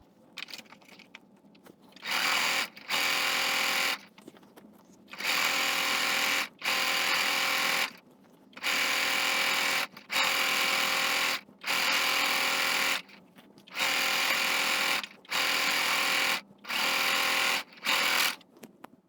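A sewing machine stitches a Christmas panel quilt in about eight regular bursts of steady whirring motor and needle chatter, each lasting a second or two, separated by short quiet pauses, close and fairly loud, with no voices.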